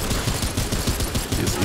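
Rapid, dense gunfire from a pistol in the video game Remnant 2 rattles continuously and loudly, with overlapping shots and no pauses.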